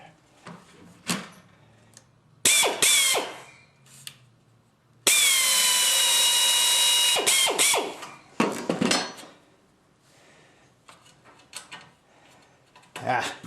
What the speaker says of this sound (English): Every time, got to deburr that hole.